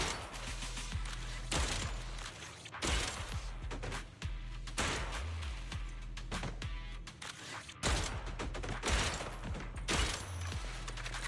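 Rapid bursts of gunfire from the video game Zenless Zone Zero, dense repeated shots with thumping impacts over a steady game soundtrack, loud throughout with brief gaps.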